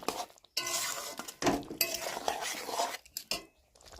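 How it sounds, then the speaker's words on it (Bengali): Fried okra stirred into onion masala in a metal pan, with a spoon scraping and clinking in bursts, close and fairly quiet, separated by short pauses and a faint sizzle. "ভেজে রাখা ভেন্ডিগুলো দিয়ে দিব, দিয়ে এটাকে ভালো করে আমি নাড়বো"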